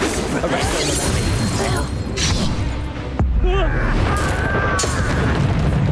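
Explosive booms from a Confringo fire spell in the video game Hogwarts Legacy burst out amid spellcasting effects and combat sounds, loud and close, with brief spoken voices in between.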